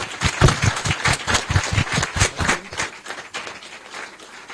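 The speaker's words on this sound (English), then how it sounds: "Please, a round of applause to my fantastic panelists" An audience at a renewable energy panel event claps for the panelists, a brisk burst of applause that thins and fades over a few seconds.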